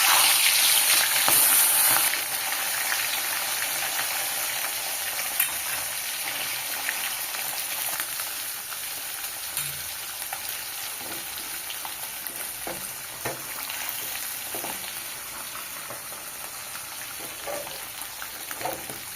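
Tilapia pieces fry in hot oil in a wok with a dense, continuous sizzle and crackle that holds steady throughout, loudest at the start.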